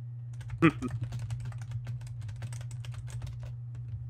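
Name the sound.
typing on a new computer keyboard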